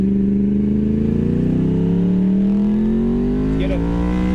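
A 2009 Yamaha R1 sportbike with an unbaffled Toce exhaust runs close and loud, its engine note climbing steadily through a rising rev with a deep, rough drone.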